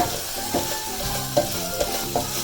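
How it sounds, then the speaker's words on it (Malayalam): Mushroom chilli with masala being sautéed in a pan, a steady sizzle with a spatula scraping and stirring in a few distinct strokes, close and moderately loud, no talking. "ഞാനിത് വെറുതെ ഒന്നിങ്ങനെ സോട്ട് ചെയ്ത് എടുക്കുകയേ വേണം"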